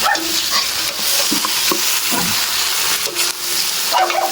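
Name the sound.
sautéing lechon in a pan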